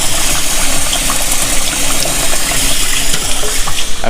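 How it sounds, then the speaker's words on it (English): Rice is rinsed under running water: a constant loud splashing and gushing, close by, with no voices. "Wash the rice nice and clean."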